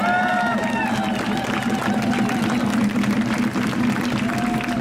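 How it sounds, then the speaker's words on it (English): Crowd applause and cheering at an outdoor anti-hate rally, steady and fairly close, with whistles or shouted voices rising over it and a low hum underneath. "Let's give her another huge round of applause"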